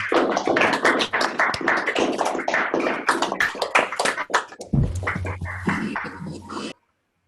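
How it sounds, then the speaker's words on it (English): An audience at a mathematics lecture applauds a speaker with a dense, close burst of rapid hand claps that holds steady, thins slightly near the end, then cuts off to silence. "Let's first have some applause for Emily."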